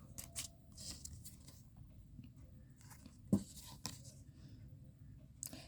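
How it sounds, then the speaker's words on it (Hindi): Tarot cards are shuffled close by in quiet, brief papery riffles and flicks, with one sharper snap partway through. "Last shuffle."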